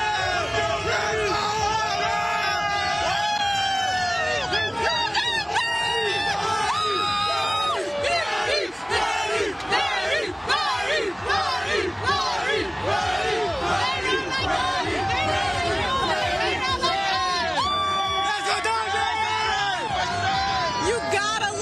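A dense street crowd at the Dodgers World Series championship parade yells, whoops and cheers without a break, loud and near, with overlapping shouting voices throughout.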